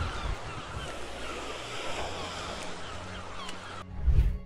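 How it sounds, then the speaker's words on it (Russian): Sea waves at Tomyuk wash in with a broad, steady rush, mixed with wind buffeting the microphone and a louder gust near the end. "Вот оно море!"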